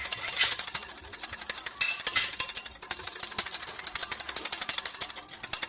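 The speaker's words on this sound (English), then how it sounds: "And now we can just whisk up the rest of it." Rapid continuous clicking and ticking as a whisk beats oil into mayonnaise in a bowl, a fast, close, bright rattle with an uneven rhythm and no talking.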